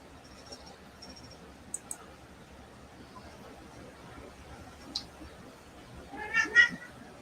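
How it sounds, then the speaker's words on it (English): A house cat lets out a short burst of meows near the end, clear and fairly close, after a quiet stretch broken only by a few faint clicks and small indoor noises. "We hear the kitty cat."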